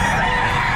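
A chicken or rooster calls loudly and close at the Padre Garcia Batangas livestock auction market, one brief sustained crow-like cry filling under a second, over busy market noise.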